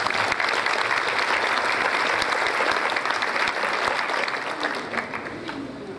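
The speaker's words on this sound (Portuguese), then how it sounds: "Uma salva de palmas para ele." A parents' training panel audience breaks into steady, dense applause for a speaker, sustained clapping at even loudness that gradually thins out near the end.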